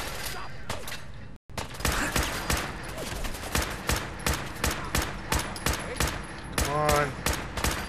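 Rapid gunfire in a Fallout 4 firefight, with repeated sharp shots in quick bursts across the whole stretch and a short dropout early on, while a player talks over the shooting.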